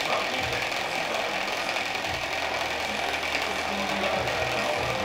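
An HPLC laboratory instrument runs while testing cannabis flower, giving a steady, moderately quiet mechanical hum and whir with faint low rattling throughout.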